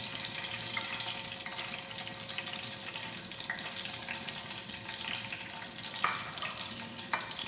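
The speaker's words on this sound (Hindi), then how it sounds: "ऑयल गर्म हो चुका है, इसमें हम ये अपने मसाले डालते हैं, साथ ही ज़ीरा डाल देते हैं।" Spices and cumin seeds fry in hot oil for a lentil dal mash, a steady broadband sizzle with faint clinks and a couple of sharp ticks near the end, no voices.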